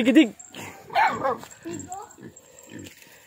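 A dog barks and yips a few times nearby, mixed with people talking over it.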